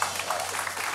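Audience applause at a French television comedy talk show, a steady dense patter of clapping from the studio crowd filling the whole moment at moderate level, with no talk over it.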